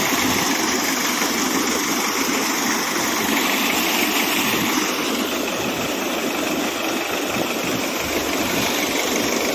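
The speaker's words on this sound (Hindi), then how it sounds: "और ये सोनालिका 750 ट्रिपल हाई ट्रैक्टर है" A Sonalika 750 tractor engine runs steadily at low speed driving an 8x8 double water pump at 750 rpm, a loud, close, constant rumbling drone with no talking.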